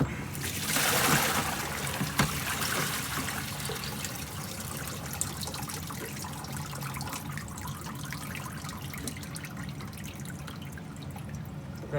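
Sterilizing bleach water is dumped from a bucket of plant pots, starting with a loud splashing pour, then settling into steady trickling and dripping that fades gradually, with no talking.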